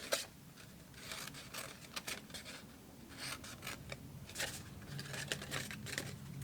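Quiet, close snipping and rasping as scissors cut through card stock for chocolate window cartons in short irregular strokes, soft and repeated against a faint background.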